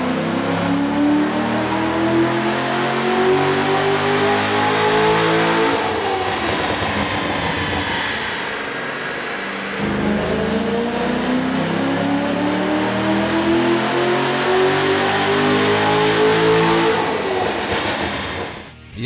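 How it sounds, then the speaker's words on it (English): A 2006–2009 Chevrolet Corvette Z06 with a performance cold air intake filter kit revs on a dyno, its loud engine note climbing steadily in two long sweeps, easing off briefly in between and then rising again. "we ran the vehicle on the dyno to test the sound comparison versus the stock intake"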